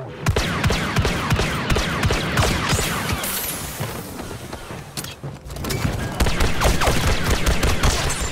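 Rapid blaster fire from Han Solo in the video game Battlefront 2 on Crait, dense bursts of sharp shots in quick succession with a brief lull midway before firing resumes loudly.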